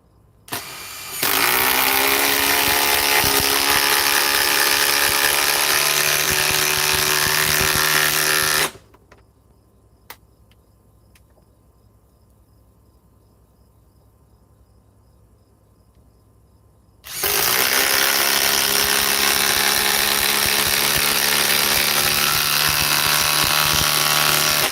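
A Ryobi power tool runs loud and steady for several seconds, cuts out into near silence with a single faint click, then starts up again at full, even power.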